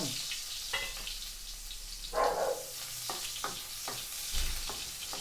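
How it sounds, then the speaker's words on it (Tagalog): Ginger and onion sizzle and fry in a pan for chicken tinola while a utensil stirs and scrapes a few times, close up, with no talking. "Igisa ang luya at sibuyas"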